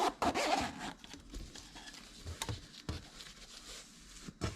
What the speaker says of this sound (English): now I'm going to unzip it